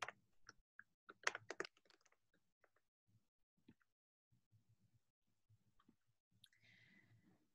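Someone types a password on a computer keyboard, with a quick, close burst of crisp key clicks followed by sparser, softer taps and a faint hum near the end, in a quiet room with no talking.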